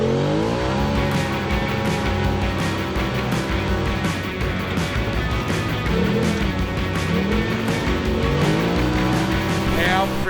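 Several off-road race trucks launch together at a desert race start in St George, with loud, sustained engine roar and revving that rises and stays dense across the whole stretch, joined by faint voices.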